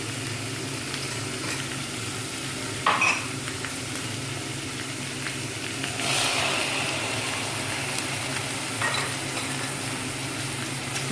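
Mushrooms frying lightly in oil with garlic give a steady, soft sizzle under low background hum, with a few brief clinks and a louder stretch of crackle partway through.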